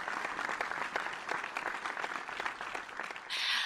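A burst of applause in an online nutrition forum, fairly faint and steady, with dense overlapping claps lasting a few seconds and a brighter swell near the end.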